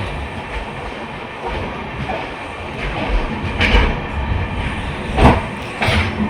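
The 16348 Thiruvananthapuram Central Express, running with 2024-built LHB coaches, pulls out of Mangaluru Central station with a steady, heavy rolling rumble and recurring clickety-clack wheel beats that swell in a few louder bursts, with no talking.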